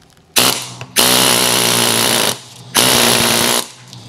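Pneumatic air hammer with a chisel point chipping epoxy primer, three loud sustained rattling bursts separated by brief pauses, close up with no talking.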